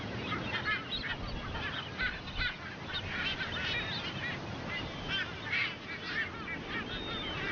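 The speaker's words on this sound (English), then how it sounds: "They are Ascension Island frigates, found nowhere else on Earth." A dense colony of Ascension Island frigatebirds calls continuously on a small offshore island in the Atlantic, a steady overlapping chorus of honking, goose-like cries with no voices.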